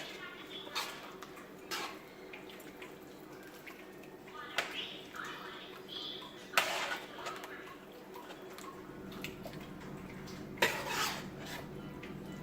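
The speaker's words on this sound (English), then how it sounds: "Trying to stir it all up so I can taste it, the sauce" A utensil stirs and scrapes around a pot of coconut curry chicken and shrimp gumbo, with soft intermittent clinks and scrapes at close range over a low kitchen hum, and a voice speaks now and then.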